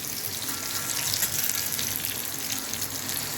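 Stuffed bitter gourd fries in an iron kadhai with a loud, dense, continuous hiss and crackle. The sound is close and steady and runs without speech.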